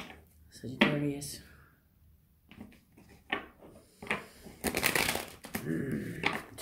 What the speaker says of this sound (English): Two more shuffles for Sagittarius.